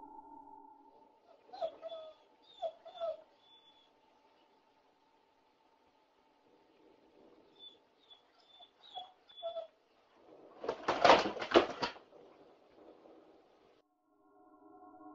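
Soft high whimpers and whines from dogs come in short bursts, quiet and close, with a loud rustling scuffle near the end.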